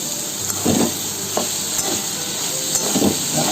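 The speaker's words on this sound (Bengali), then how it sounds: "ক্যাপসিকামগুলো দিয়ে দিচ্ছি, সব কিছু একসাথে ভেজে নেবো যা আছে।" Capsicum, beans and other chopped vegetables frying together for fried rice, with a loud continuous sizzle and a few rhythmic stirring scrapes close by.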